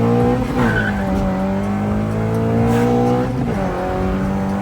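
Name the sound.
2014 Honda Civic Si engine, VTEC engaging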